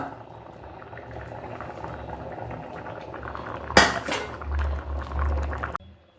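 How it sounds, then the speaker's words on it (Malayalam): Liquid bubbling and simmering in a heavy stone pot, a steady close boil, with a sharp clatter of cookware partway through before it cuts off. "കൽച്ചട്ടി മൺചട്ടി ഒക്കെ ആകുമ്പോൾ ഇങ്ങനെ ഇത് അങ്ങനെ തിളച്ചുകൊണ്ടിരിക്കും"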